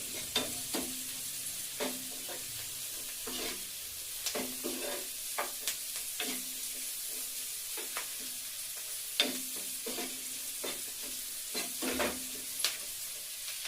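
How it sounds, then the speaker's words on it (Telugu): Moong dal frying in a pan with onion and garlic crackles in a steady sizzle, while repeated sharp scrapes from stirring break through every second or so. No one speaks. "తర్వాత పెసరపప్పు వేసి ఫ్రై చేసుకోవాలి."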